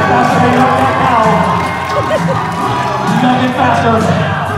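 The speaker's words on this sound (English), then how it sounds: "Cheer on your favorite cow milkers out there, ladies and gentlemen" A live audience at a stage hypnosis show cheers and shouts during a cow milking contest game. The crowd noise is loud and continuous, mixed with voices.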